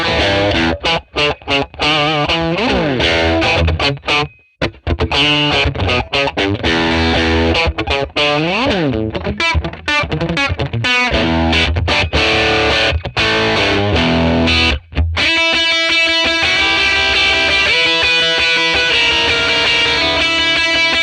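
Telecaster played in drop tuning through a Fender 1957 Tweed Bassman amp model on the bright channel, giving a loud, driven electric guitar with riffs, chugs and sustained chords, broken by a few brief stops.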